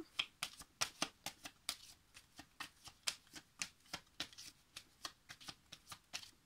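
A deck of playing cards is handled during a card game, giving quick, regular riffling snaps repeated steadily at close range, with no talk.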